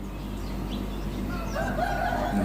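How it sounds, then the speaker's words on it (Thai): A rooster crows in the early morning in Khon Kaen, Thailand, giving one loud, close cock-a-doodle-doo that rises and stretches out over a quiet background. "ที่สำคัญมีเสียง ไก่ขันด้วยนะครับ"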